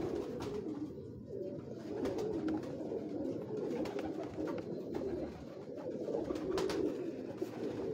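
Teddy pigeons of an old breed coo steadily from close by, a soft continuous murmur of several birds with no talk over it.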